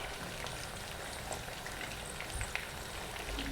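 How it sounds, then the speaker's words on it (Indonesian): Peanuts fry in oil over medium-low heat for fried garlic peanuts, giving a steady, even sizzle and fine crackle throughout that stays soft and continuous with no talk. "Ini kita goreng dengan api sedang aja menuju kecil ya"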